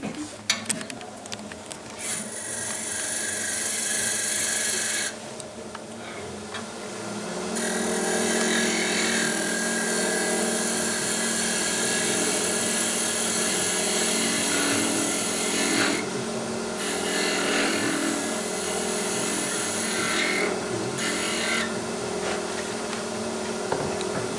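Wood being turned on a lathe while the outer surface is finished and decorative patterns are cut into it, giving a steady, loud scraping and rasping across the whole stretch, with brief pauses and changes in pitch as the tool moves.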